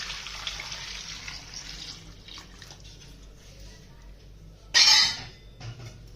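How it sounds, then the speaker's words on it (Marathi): Water runs from a tap into a pressure cooker for a few seconds, with a brief louder splash near the end. "हे बुडेल इतपत पाणी टाकायचं"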